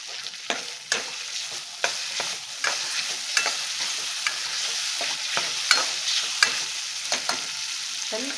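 Chopped tomato and raw ginger-garlic paste frying in a pan for Andhra-style fish curry: a steady close sizzle broken by regular scraping stirs of a spatula against the pan.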